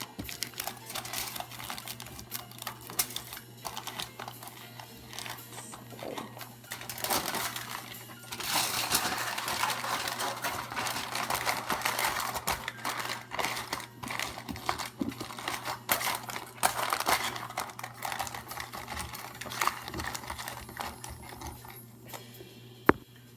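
Aluminium foil crinkles and crumples as chicken pieces are wrapped, with irregular crisp rustles and taps continuing steadily throughout, moderately close and fairly quiet, with no talk.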